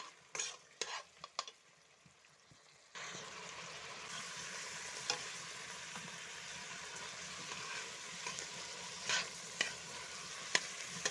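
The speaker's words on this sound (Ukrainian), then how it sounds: "Отак помаленьку, ретельно мішаємо цибулю, морку, щоб вона в нас не пригоріла." Onions and carrots sizzle steadily in a hot frying pan, with occasional scraping knocks of a spoon stirring, fairly quiet and close.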